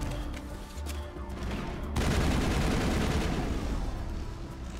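Powerful gun firing in Mass Effect, a few sharp shots early, then a sustained, dense roar of rapid fire that holds at a steady level to the end.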